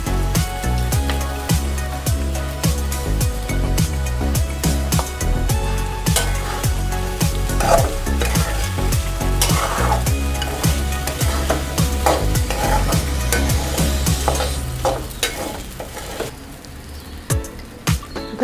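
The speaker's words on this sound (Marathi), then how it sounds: "आता मी त्यामध्ये हा साबुदाणा भिजवलेला आहे तो व्यवस्थित मोकळा करून घेऊन मग टाकते" Soaked sago pearls (sabudana) for Maharashtrian khichdi are stirred and fried in a pan, with a dense sizzle and repeated scraping strokes of a spoon, loud and close, easing off toward the end.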